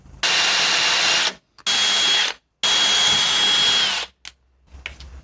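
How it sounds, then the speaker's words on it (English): A power drill whirs loudly in three bursts through parts of a fiberglass Proton Pack frame, each running a second or so with brief pauses between, followed by a few faint clicks. "drilling through all of these"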